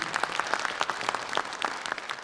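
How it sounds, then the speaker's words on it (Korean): At a 2022 Leeum Chamber Orchestra concert, an audience gives a short burst of applause, with distinct individual claps landing in a quick, uneven patter at moderate loudness. "선생님께 박수 한번 주시죠"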